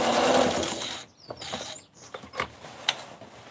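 A sewing machine stitches a long waistband seam with a close, loud whir for about a second. Then come scattered mechanical clicks and quieter gaps.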